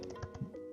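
Keys clatter on a computer keyboard in a quick, uneven run of soft taps, close and fairly quiet, with no talking.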